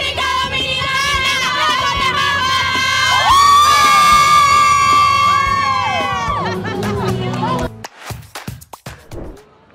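Large crowd of young pilgrims at World Youth Day in Lisbon's Parque Eduardo VII shouting and cheering loudly, with a sustained chanted call rising above the roar before it breaks into scattered yells and claps.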